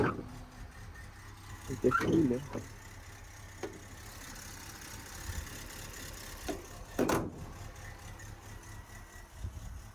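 An Opel Corsa engine idling at about 1,000 rpm: a faint, steady low hum that continues under a voice, with a few brief louder knocks.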